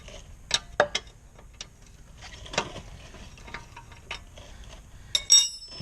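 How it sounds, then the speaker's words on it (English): A 7/8 open end wrench loosens a steering stop jam nut, giving a few sharp, close metallic clicks and ticks spaced irregularly over quiet background. "you can see the jam nut, I got a 7/8 open end wrench. I'm going to try and loosen that up."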